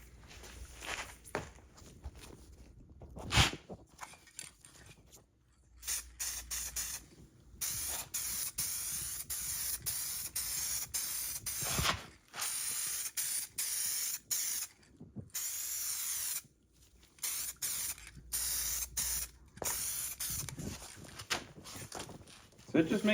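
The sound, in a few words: spraying Landau black color coat on plastic headlight surrounds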